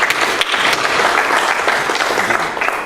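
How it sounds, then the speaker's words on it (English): A room of people applauds a speaker at a Greater New Orleans Quarterback Club gathering, with a dense, steady burst of clapping that holds at full volume for about three seconds. "Let's give him a round of applause first."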